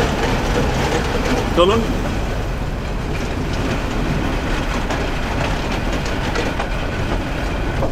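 A passenger train rolls toward Sitakunda railway station with a steady, close rumble and clickety-clack of wheels on rails, while a voice speaks briefly over the noise.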